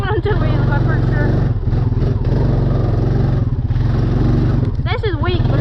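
An off-road vehicle engine churns through mud doing donuts, a loud, steady mid-pitched drone with revving swells, while someone talks excitedly over it.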